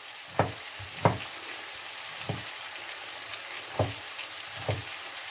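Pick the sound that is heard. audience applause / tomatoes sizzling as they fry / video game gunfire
tomatoes sizzling as they fry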